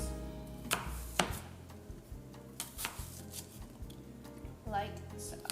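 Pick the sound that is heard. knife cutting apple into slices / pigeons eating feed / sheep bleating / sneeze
knife cutting apple into slices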